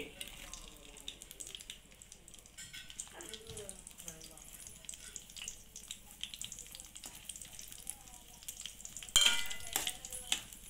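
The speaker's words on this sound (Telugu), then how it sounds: "ఇప్పుడు ముందుగా మనం ఈ పచ్చిమిరకాయ ముక్కలు వేపుకుందామండి" Green chili pieces fry in hot oil in a pan for a steady, moderate sizzle, with scattered stirring clatter and a sharper burst of splashy noise near the end.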